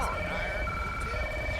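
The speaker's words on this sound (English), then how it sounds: "shut my siren off here because it's annoying" A police car siren wails steadily in GTA 5, its tones sustained and fairly faint over the short span, with no pause.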